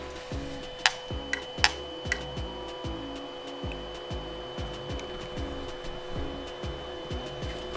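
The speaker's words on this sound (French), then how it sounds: "ce qu'on fait, c'est qu'on allume l'imprimante" A 3D printer being switched on, giving repeated mechanical ticks and whirring steps at a steady rhythm, with a few sharper clicks early and a faint background hum.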